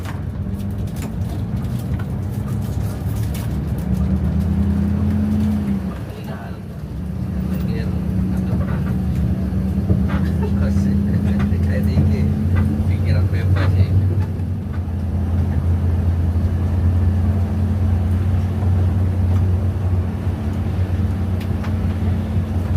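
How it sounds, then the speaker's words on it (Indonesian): A PO Legend intercity bus pulls out from Mengwi Terminal near Denpasar, bound toward Jakarta, with a steady low engine drone and interior cabin rumble throughout and some faint background voices. "Bus berangkat menuju ke arah Jakarta."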